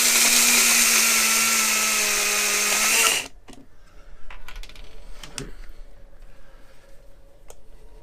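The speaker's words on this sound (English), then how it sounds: "how hard it is to grate Parmesan cheese" Parmesan cheese being ground in a small electric grinder: a loud, steady high-pitched whirring buzz for about three seconds, then the motor cuts out, leaving quiet clicks and rattling handling noises.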